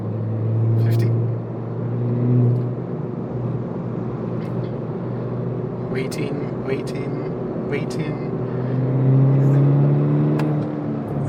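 A 2012 VW Golf GTI Mk6 cruises in third gear, its engine humming steadily with moderate rises and falls, while someone talks over it.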